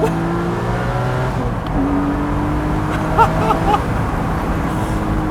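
Porsche 718 Spyder fitted with a Cargraphic X-pipe race exhaust braking hard and downshifting, a loud, close engine drone with falling pitch, punctuated by short blips and crackles.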